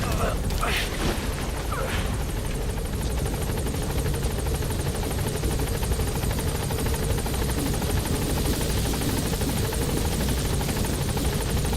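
A support helicopter's steady rotor drone fills the scene in Metal Gear Solid V: The Phantom Pain, continuous and loud, with a voice speaking briefly over it.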